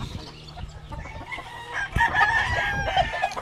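A rooster lets out a loud, close crow near the middle, with softer clucking and low farmyard rumble before it and ringing bird calls after.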